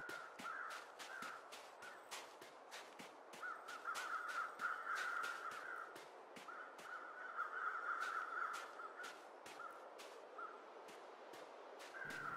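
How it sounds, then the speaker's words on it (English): Crows cawing in the video game The Long Dark, a steady run of harsh, repeated caws over a windy outdoor hiss, moderately distant and continuing without talk. "I wonder what those birds are circling."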